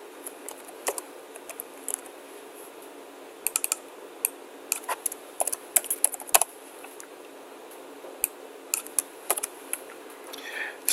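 Computer keyboard typing close by while a formula is entered, irregular clusters of crisp key clicks with short pauses between bursts, no voices.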